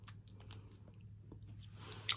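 Someone bites and chews a Turkish Cocoa Crisp chocolate bar with marshmallow, coconut and small crisped rice, giving soft, close crunching and mouth sounds against a low steady hum, with a sharper crunch at the end.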